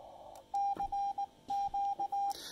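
Morse code CW from a ham radio memory keyer: a clear single-pitch tone keyed in short and long bursts, steady and moderately loud, set against faint background hiss.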